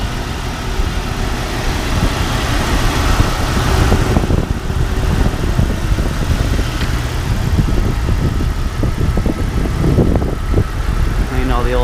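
A 1998 two-door Jeep Cherokee XJ with a straight-six engine idles steadily and close up, a low continuous rumble heard throughout while someone talks over it.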